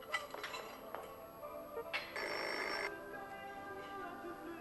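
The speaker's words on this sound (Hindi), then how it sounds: "फोन देखो फोन।" A telephone bell rings in a single short burst midway through a quiet indoor room, with faint clicks and room noise around it.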